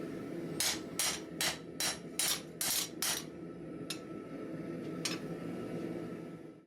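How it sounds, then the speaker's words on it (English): Light hammer blows flatten a 5160 steel Bowie knife blade: about seven quick, evenly spaced ringing strikes, then two more isolated taps over a steady shop hum, close and fairly loud. "you come back with light hammer blows and flatten the whole entire piece out"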